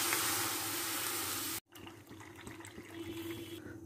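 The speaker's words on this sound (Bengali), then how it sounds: "আমি একটা পাত্রে দুধটা দিয়ে দিলাম" Milk pours steadily into a pot in a loud, continuous splashing stream that stops abruptly, followed by quieter kitchen room noise.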